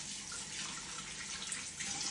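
Hands being washed under a running kitchen tap before preparing Filipino-style chicken barbecue, a steady, even hiss of flowing water filling the whole stretch with no talking.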